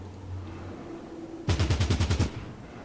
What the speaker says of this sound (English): We've got a guy shooting at Stein here.